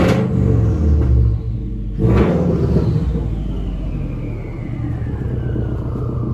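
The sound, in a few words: Subaru WRX engine revving with Tomei exhaust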